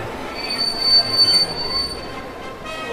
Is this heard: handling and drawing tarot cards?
no